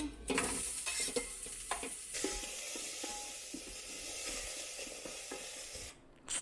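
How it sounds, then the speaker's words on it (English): Chopped onions sautéing in olive oil in an Instant Pot, a soft steady sizzle broken by stirring scrapes and a few pot clanks, close up with no talking. "I'm gonna just toss a little bit of the olive oil in here and start sauteing the onions."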